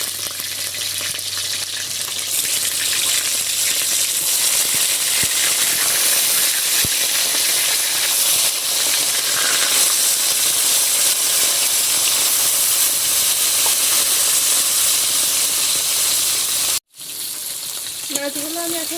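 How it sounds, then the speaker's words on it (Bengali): Battered fish frying in hot mustard oil in a wok, a loud steady sizzle and hiss running throughout, briefly cut near the end before resuming. "তেলটা গরম হয়ে গেলে মাছগুলো দিয়ে দেব।"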